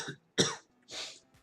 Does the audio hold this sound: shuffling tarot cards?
no